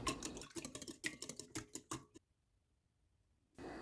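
Wire whisk beating oil and salt together in a bowl, a quick run of close, crisp metallic ticks and scrapes for about two seconds, then near silence before a faint hum returns.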